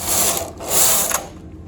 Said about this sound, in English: Okay, so knit 2 rows.